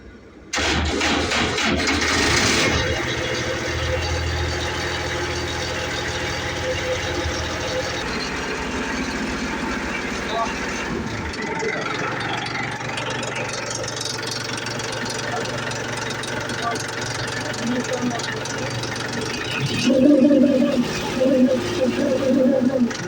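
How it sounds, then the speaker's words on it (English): A fire-protected lifeboat's diesel engine starts, then runs with a steady loud mechanical drone that lasts throughout and swells near the end. "Keep it in this position for 15 to 20 seconds and then give the engine kick."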